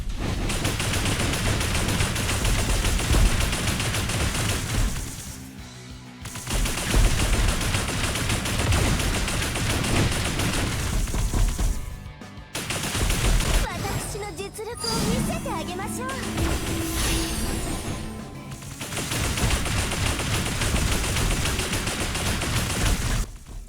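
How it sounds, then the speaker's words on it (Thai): Dual pistols firing in the action game Final Gear, rapid repeated shots in long loud stretches broken by short pauses, with a voice talking over parts of the gunfire. "อาวุธอีกอย่างก็คือปืนคู่นะครับ มาลองดูกัน"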